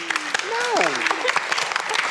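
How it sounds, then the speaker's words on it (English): Theatre audience clapping at the Palace Theatre, the applause running under voices that talk over it, with rising and falling tones cutting through the patter. "Clap for him."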